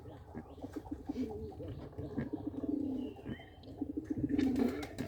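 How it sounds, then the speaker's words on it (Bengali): A pair of Rajshahi Giribaj pigeons coo nearby, with repeated low throaty calls rolling on over several seconds. "দেখুন রাজশাহী গিরিবাজটা দেখুন আপনারা, অনেক সুন্দর দেখা যায় গিরিবাজটা, অনেক সুন্দর এক জোড়া কবুতর"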